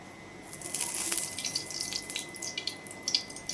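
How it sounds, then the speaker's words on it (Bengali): Refined oil is poured into an already hot wok, giving a close, steady hissing and sizzling stream with a few brief spatters over a few seconds. "এবার কড়াতে দিয়ে দিলাম তেল, একটু রিফাইন্ড তেল দিয়ে দিলাম।"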